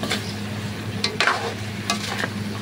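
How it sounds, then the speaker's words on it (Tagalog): A spatula stirs adobong pinatuyo in a pan with a few quick scraping strokes over a steady background sizzle of frying. The sound is close and loud, with no talking. "Haluin ito na mga idol"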